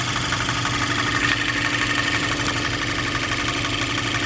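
A turbocharged Cadillac engine idles steadily up close, with a fast, even direct-injector ticking running through the rumble.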